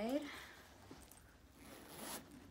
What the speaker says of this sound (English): nice smooth zipper with this pocket back here